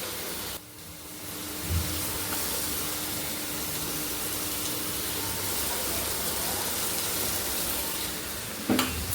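Onions frying in butter on a tawa for butter chicken, a steady loud close sizzle and crackle running throughout, with a brief clatter near the start and another near the end, no talking.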